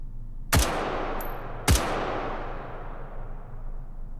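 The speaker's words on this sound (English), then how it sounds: "see how well it shoots at 10 meters while we're still on 50" Two sharp gunshots in the VR shooting game H3VR, fired about a second apart at a 10-meter range, each loud and close with a short decaying tail, and no talking between them.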